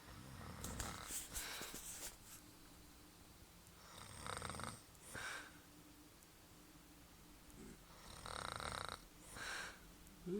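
A sleeping woman snores in repeated rough, rattling inhales with brief snorts between them, close and quiet, several breaths across the span.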